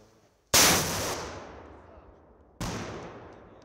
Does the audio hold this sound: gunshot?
yes